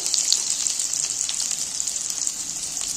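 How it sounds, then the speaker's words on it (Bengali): Potato and taro chunks fry in oil in a pan, a loud, continuous bright sizzle with faint crackles and no voices throughout. "তো সেই জন্য একটু ভালো মতো আলু আর কচুটা ভেজে নেবো।"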